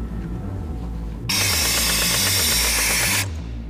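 A power tool strains against rusted wheel bolts on a truck, whirring and rattling loudly for about two seconds over a steady low engine-like hum, then cutting off abruptly.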